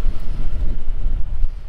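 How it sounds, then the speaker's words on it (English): Strong wind buffets the microphone outdoors, a continuous low rumbling roar that fills the whole moment with no speech. "Ooh man, it's kind of windy today."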